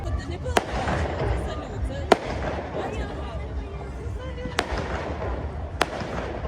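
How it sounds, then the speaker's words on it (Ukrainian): Scattered fireworks pop and crack at a distance, four sharp bursts spread over a steady murmur of background noise and voices. "Щось бідний сьогодні салют."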